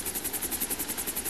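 A helicopter in GTA V Online thrums loudly and close, its rotor chopping in a fast, even pulse over a low engine drone.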